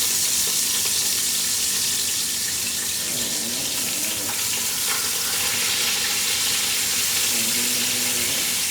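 Chicken thighs fry skin side down in a pan, a loud, dense, steady sizzle with faint clinks from the pan.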